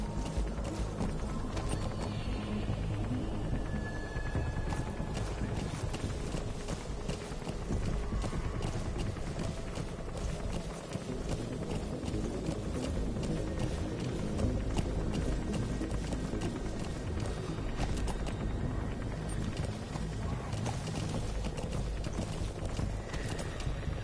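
Horse hooves pound in a fast, continuous gallop in the Metal Gear Solid 5: The Phantom Pain video game, a dense steady rhythm under game ambience with no talk.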